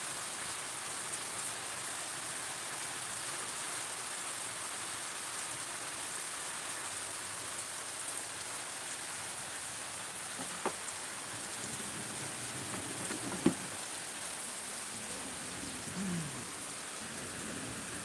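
Heavy rain pours in a steady, dense hiss throughout, with low rumbles of thunder rolling faintly in the distance and a sharp crack partway through.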